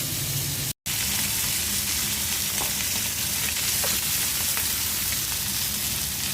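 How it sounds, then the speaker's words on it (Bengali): Rohu fish heads fry in hot oil with a loud, steady sizzle that crackles throughout, broken by one brief gap near the start. "মাছের মাথাগুলো ভাজা হয়ে গেছে"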